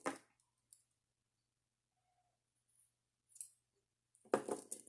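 Scissors snipping the ends of embroidery floss, a few faint, short clicks and snips spread out with quiet gaps, then a louder cutting rustle at the end.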